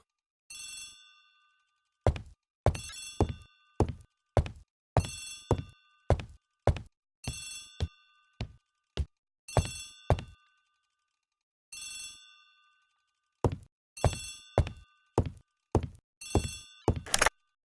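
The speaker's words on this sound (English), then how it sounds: "Poirot, the telephone." A telephone rings in repeated bursts in the Agatha Christie: The ABC Murders video game, its bright bell tones coming in clustered double rings with short silent gaps between the sets, clear and close.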